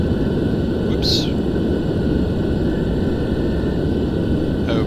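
Jet engines of a T-2 Buckeye trainer run steadily, a dense, loud roar and whine heard from inside the cockpit with a brief hiss partway through.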